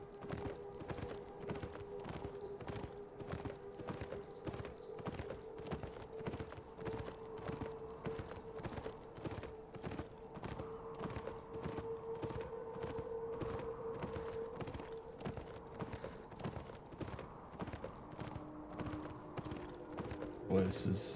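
Horse hooves clip-clop at a steady walking pace while riding across a pasture in the video game Beyond: Two Souls, a regular rhythmic beat running under a tonal music bed for about twenty seconds.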